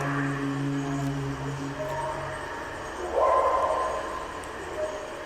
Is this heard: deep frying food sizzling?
no